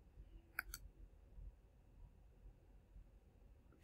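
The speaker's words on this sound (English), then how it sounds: "You're gonna click this link" Mouse clicks on a link, a couple of quick sharp clicks early on and another at the very end over faint room hum, very quiet and close.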